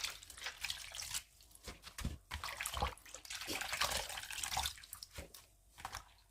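Washed vegetables for pickling are set to drain, and water splashes, drips and trickles off them in an uneven, close-up wash of liquid sound at low volume.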